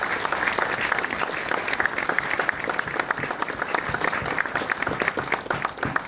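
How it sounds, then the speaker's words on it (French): An audience at a closing address at a Brussels forum applauds steadily, a dense, even wash of many hands clapping throughout with no voices. "Et je vais vous demander de l'applaudir phonétiquement."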